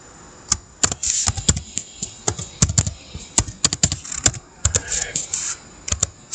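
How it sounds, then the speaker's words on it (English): Rapid, irregular clicking of keys on a computer keyboard as an email subject is entered, close and crisp, with short pauses between bursts and no talk. "And I just type my subject."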